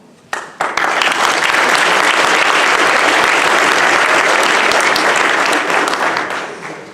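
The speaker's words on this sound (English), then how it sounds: "Are they ready for clapping?" After a couple of sharp opening claps, an audience at a speaking event breaks into full, steady applause that holds loud and even for several seconds, then gradually thins out.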